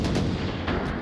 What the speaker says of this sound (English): Shots out from Amick.